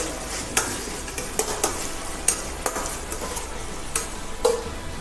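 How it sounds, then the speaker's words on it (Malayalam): Tomato and egg stirred while frying in a pan, a steady sizzle under sharp intermittent scrapes and clinks of the spatula against the pan, close and moderately loud, with no talking. "ഒന്ന് വരണ്ട് വരട്ട ഇളക്കി കൊടുക്കാം."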